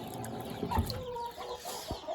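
Chickens cluck softly at close range, a few short calls scattered over low farmyard background noise.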